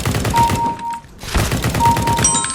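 Rapid gunfire from a Counter-Strike: Global Offensive match, loud close bursts of shots in quick rhythmic succession with a short pause midway before the firing picks up again.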